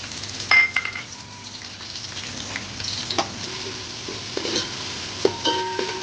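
Ginger-garlic paste and onion masala frying in a pan for a village-style veg biryani, a soft continuous sizzle with scattered stirring clinks and utensil taps.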